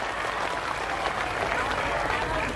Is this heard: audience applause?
yes